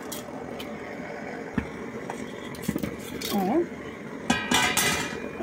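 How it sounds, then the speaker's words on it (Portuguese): Macaroni is stirred in a pot of boiling water, with scattered clinks and scrapes of a utensil against metal and a brief voice in between. "Eita, agora eu mexi."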